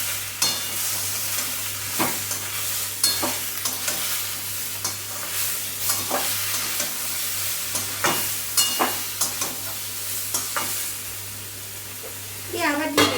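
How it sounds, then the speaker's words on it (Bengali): A vegetable curry with turmeric sizzles steadily in a pan while a spoon stirs it, scraping and clacking against the metal in irregular knocks, close and moderately loud throughout. "দেব হচ্ছে হলুদ, দিয়ে একটু নাড়াচাড়া করে নেব।"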